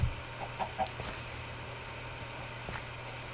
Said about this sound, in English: And I summon my chicken pet.